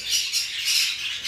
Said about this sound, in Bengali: পাখিগুলো অনেক উড়াউড়ি করতেছে